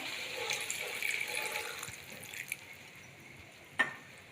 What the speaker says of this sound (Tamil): இப்போ வந்து கொஞ்சமாக தண்ணி சேர்த்துக்கலாம்